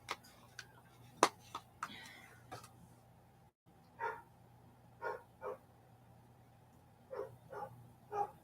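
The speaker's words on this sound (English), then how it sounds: "There's the dog barking." A dog barks several times in short bursts somewhere in the distance, faint and irregular over a quiet indoor room, with a few sharp clicks and taps nearby at first.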